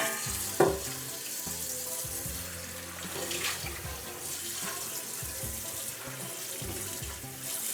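Naturally dyed fabric, colored with lichen, woad and elderberries, is rinsed under a running tap, with a steady splashing flow close by at moderate level and no talking.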